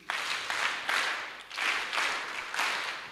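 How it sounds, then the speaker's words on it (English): University orientation audience clapping in unison for a professor, three rounds of loud synchronized claps in a steady rhythm, each burst swelling and fading before the next. "I'd like us to now appreciate Prof with 3 factorial claps."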